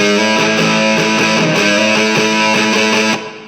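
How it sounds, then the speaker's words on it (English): Loud, heavily distorted electric guitar chords ring out in a steady chugging rhythm, then cut off abruptly at the end. "I would suggest getting your guitar cranked up, bit of distortion."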